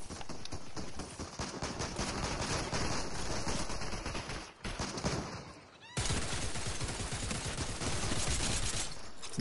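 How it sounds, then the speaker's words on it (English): Two players fire on the player in Fortnite: continuous rapid gunfire bursts crackle for several seconds, pause briefly, then resume loud and dense. "There's 2 people shooting at me."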